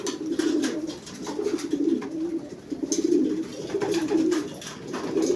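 Pigeons cooing at feeding time as breeder-mix grain is scattered, several birds giving repeated low rolling coos in rhythmic bursts, close and steady with no talk.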